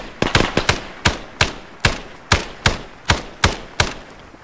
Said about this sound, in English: I'm gonna put down some covering fire.